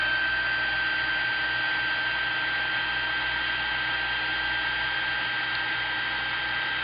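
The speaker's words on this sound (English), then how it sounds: "I'll bring this in here and we will melt the powder and make it into metal." Heat tool blowing a steady hot-air roar as embossing powder melts on cardboard, continuous and fairly loud with no talking.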